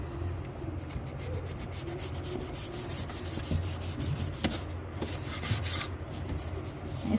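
An item stained all over with fungus is scrubbed by hand in steady, raspy rubbing strokes that run continuously and fairly quietly, with no talking.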